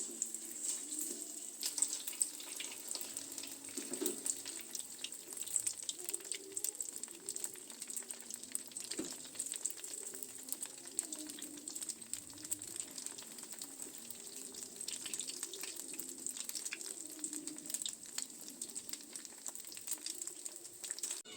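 Chicken sempol dropped into hot oil and frying, a faint, steady hiss and crackle that carries on throughout with a few soft knocks and no voices.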